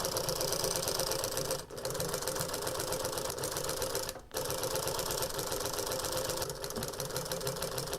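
A sewing machine stitches welt into a golf cart seat cover with a fast, steady mechanical rattle, stopping twice for brief pauses before running on at the same even pace.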